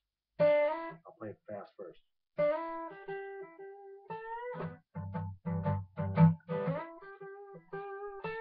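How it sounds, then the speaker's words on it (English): Electric guitar playing a quick blues riff with bent, sliding notes, interrupted by short spoken phrases and brief pauses. "It has to be just sound like it was bent."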